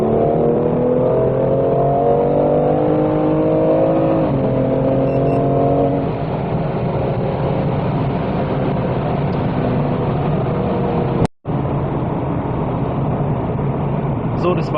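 A tuned BMW M2 Competition by Manhart pulls hard from fourth gear, its engine note climbing steadily in a loud, sustained run before easing off, with brief mechanical noise near the end and steady road roar beneath.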